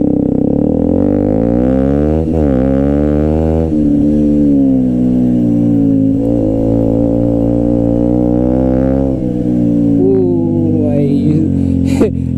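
A KTM RC125 motorcycle with a GPR exhaust drones loudly and steadily while being ridden, its engine note rising and falling as the revs shift, with wind rush and no talking.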